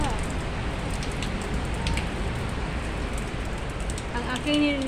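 Steady heavy rain pouring down as a dense, continuous hiss, close and fairly loud, with faint faraway sounds near the end.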